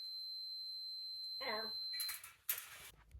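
A steady high-pitched multimeter continuity beep across a clothes dryer heating coil sounds continuously, then cuts off as some rustling and handling noise takes over.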